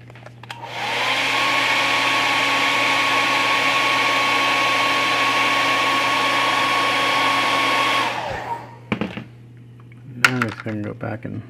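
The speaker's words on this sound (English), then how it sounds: "Here's the hair dryer real quick." A hair dryer starts up, runs as a steady loud whirring drone for about seven seconds, then shuts off, followed by a few light clicks and handling noises of a craft or model-painting workspace.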